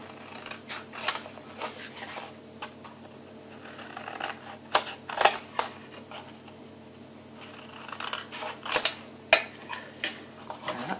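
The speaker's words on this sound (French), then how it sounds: "Maintenant, on va couper. Alors, je coupe" Scissors cut the four corners of a sheet of paper for a Christmas pocket scrapbook album, giving scattered sharp snips and light clicks up close with quiet gaps between.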